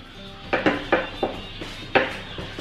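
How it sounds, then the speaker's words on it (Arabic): Börek rolls set down one after another into a frying pan, giving a series of sharp close clinks and soft knocks at uneven intervals, with no talking. "دابا غنهز هادو نحطها في الطاوه وندير واحد حداها"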